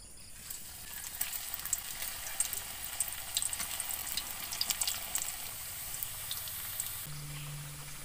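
Oil frying in a pan, a steady close sizzle with scattered small pops and crackles that continues throughout, changing to a lower hum near the end.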